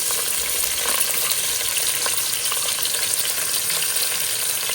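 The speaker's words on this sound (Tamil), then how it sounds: "எல்லாத்தையும் சேர்த்து நல்லா வதக்கிடலாம் ஃப்ரெண்ட்ஸ்" Onions, whole spices like cinnamon and green chillies sautéing in oil for chicken dum biryani give a steady, loud, close sizzle with crackling pops throughout, and no one speaks.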